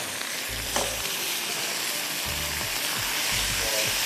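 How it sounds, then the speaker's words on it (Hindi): Garlic and mustard paste sautéing in a pan gives a continuous broadband sizzle, close and even, with a few low thuds from stirring and no speech. "फिर हम इसमें लहसुन शामिल करेंगे। हर चीज़ को आपने भूनना है।"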